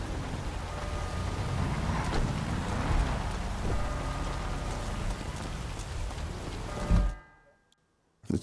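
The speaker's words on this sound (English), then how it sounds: "And it starts to rain." Rain falls in the GTA video game during a Porsche Cup race, a dense steady hiss over low engine-like rumble throughout, building slightly before cutting off abruptly near the end into near silence.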